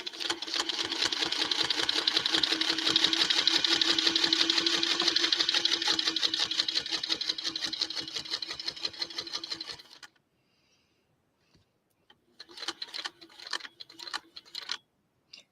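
Home sewing machine stitching a curved marquise quilt pattern runs steadily and loud for about ten seconds, stops briefly, then restarts in a few short bursts.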